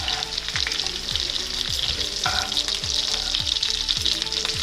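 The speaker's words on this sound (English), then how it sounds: "Now we will turn the lobster to the other side." Lobster fries in a hot pan for a lobster curry with dense, continuous sizzling and popping. Loud and close, with a few soft knocks as the pieces are turned, and no voices.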